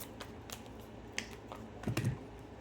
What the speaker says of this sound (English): Let us shuffle really quick.